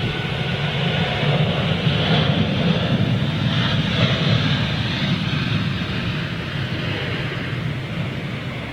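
Airliner taking off at Manchester Airport, a steady, broad jet-engine roar heard from some distance, holding loud throughout with no voices over it.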